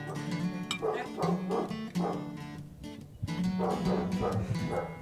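A dog barks and whimpers in repeated short yips and whines, close and fairly loud, in a home kitchen during a spring barbecue cooking session.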